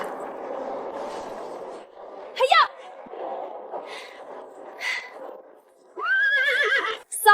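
A horse whinnies with a rising, shaky call near the end, after quieter background sounds and a brief earlier squeal; nearby voices murmur faintly.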